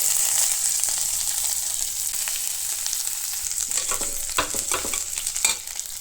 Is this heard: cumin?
yes